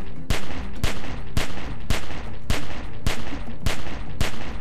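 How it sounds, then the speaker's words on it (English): Rapid gunfire in The Walking Dead video game: nine loud, evenly spaced shots about half a second apart, each a sharp crack over a continuous roaring game background. "Remember, don't stop shooting."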